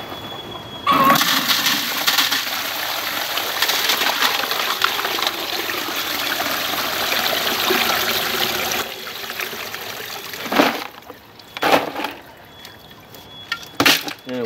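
Water with ice poured through a small sieve while mixing a chemical rock-cracking agent, a steady close gushing pour for several seconds that cuts off, followed by a few short splashy bursts.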